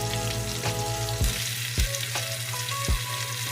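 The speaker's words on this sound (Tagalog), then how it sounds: "Hintayin lang natin guys hanggang mag-crispy yung ating balat." Pork skin for lechon kawali crackles and sizzles in hot oil as it crisps, with a constant fry hiss, a low steady hum and several sharp pops.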